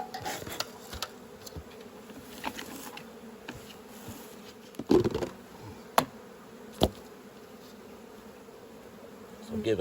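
Honey bees buzz steadily around a hive entrance during feeding with pollen patties and sugar syrup, a close continuous drone with a few louder passes and brief handling knocks.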